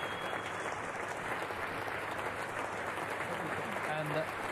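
Sustained applause from the whole crowd at a cricket ground, Australian fielders joining in, marking a veteran commentator's final broadcast; a steady, distant wash of clapping with a faint voice near the end.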